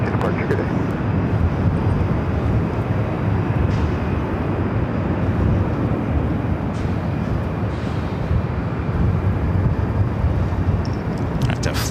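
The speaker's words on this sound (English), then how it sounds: "a flight heading to Vegas, rolling down at 24 left" An airliner taking off on runway 24 left at LAX, bound for Las Vegas, produces a loud, sustained broadband jet roar lasting the whole stretch, with radio chatter faintly audible beneath.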